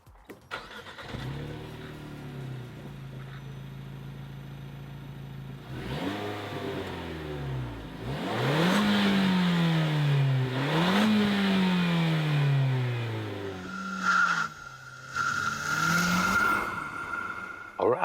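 Renault Megane GT with a 205-horsepower 1.6-litre petrol engine accelerating hard, its note climbing through several gears with brief dips at each shift, loud and close throughout.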